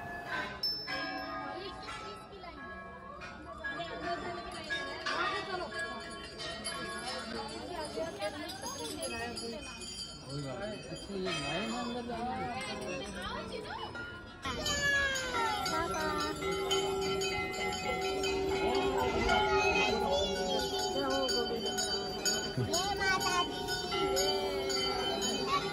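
Many temple bells ring in repeated clangs as visitors strike them while walking through Chitai Golu Devta temple in Almora, Uttarakhand, a steady bright jangle running under someone speaking throughout.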